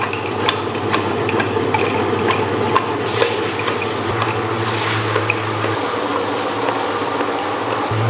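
Water poured into an electric wet grinder holding soaked urad dal, with a steady close motor hum under continuous sloshing and trickling liquid, plus a few brief clicks and splashes and no talking.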